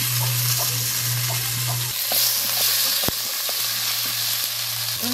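Tomatoes hit a hot pan of onion and ginger-garlic paste, giving a continuous loud sizzle and hiss with a few scraping stirs and a sharp knock of the utensil partway through.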